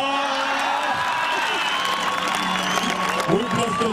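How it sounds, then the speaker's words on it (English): Audience at a healing service in Kericho, Kenya, applauding for a woman, sustained clapping and crowd noise with scattered cheers and voices over the top. "I want someone to clap for her."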